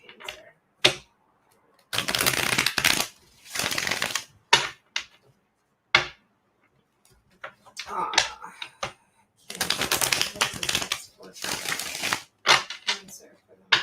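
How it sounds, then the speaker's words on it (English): Tarot cards are shuffled by hand at close range, in two longer bursts of crisp riffling and a few short snaps and taps, with quiet gaps and occasional talk between them. "We'll just do 3 more shuffles."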